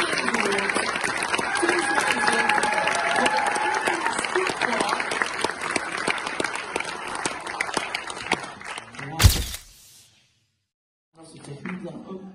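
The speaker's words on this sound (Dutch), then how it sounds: "En dan wil ik ondertussen van het publiek nog een applaus voor de winnaar." An audience gives dense, sustained applause for an award winner at a local sports awards ceremony, with a voice talking over the clapping before it cuts to a brief loud burst and silence.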